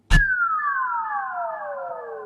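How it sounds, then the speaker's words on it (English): Laser down riser effect in a Logic Pro remix: a sharp synthetic hit followed by a bright laser tone sweeping steadily downward in pitch, loud and alone, sustaining for about two seconds. "And then we have a laser down riser."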